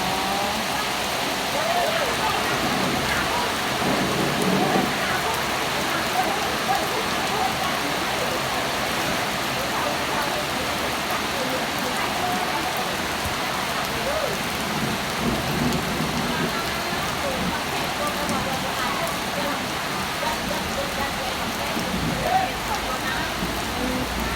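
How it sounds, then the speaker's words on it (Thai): Steady rain pours down in a constant dense hiss, loud and unbroken, with faint low rumbles underneath. "ฝนยังไม่หยุดตกเลยนะคะ"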